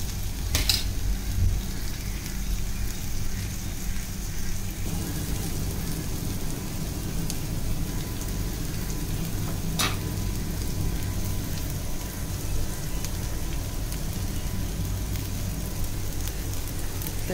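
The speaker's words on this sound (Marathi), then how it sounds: "टोमॅटो पहिला टाकते, कारण का कच्चा टोमॅटो आहे ना, थोडा तो शिजवू दे" Raw chopped tomato frying in a pan for a dub roti breakfast, a continuous dense sizzle like steady rain, close and even throughout with a few sharp clicks.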